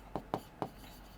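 Three short, distinct scratchy strokes of writing on a board during a geometry lesson, close and evenly spaced, followed by quiet.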